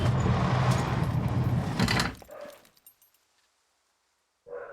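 A dog barks at workers burying cable outside. The noise is loud and rough for about two seconds, then trails off into near silence with a short sound at the very end.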